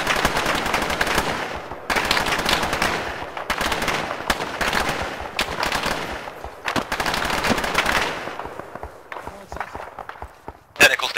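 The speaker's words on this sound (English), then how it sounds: "there, that's a gunfight, that's shooting" Battlefield gunfire from ArmA 3 during a large-scale co-op firefight: repeated bursts of automatic machine-gun fire separated by short pauses, with distant shots and voices mixed underneath.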